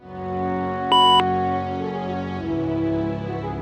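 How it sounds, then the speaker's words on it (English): A single bright electronic beep sounds for about a quarter second at the mission accomplished screen in the 1998 video game MechCommander, ringing over a steady droning game music bed. "the real game feel hits with the beep of the mission accomplished screen, when the salvage list becomes official"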